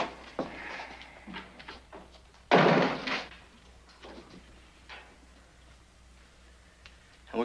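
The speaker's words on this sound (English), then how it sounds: "Shut the door." A door is shut with a single loud thud in a 1959 Western TV drama, set among quiet room sounds and soft footsteps.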